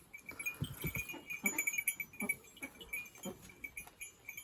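Goats bleat repeatedly at moderate distance, short overlapping calls against a faint outdoor background with a steady high-pitched tone.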